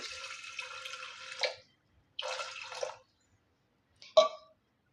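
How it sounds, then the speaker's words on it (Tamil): Water pours in three short bursts, splashing into a cooking pot of butter beans, with brief silences between pours. "இப்போ தண்ணி சேர்த்துக்கிறேன்"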